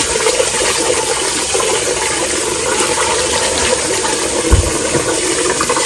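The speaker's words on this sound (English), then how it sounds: "Wash your rice couple times more." Water gushes loudly and steadily, like a tap running hard into a container while rice is rinsed, with one dull thump near the end.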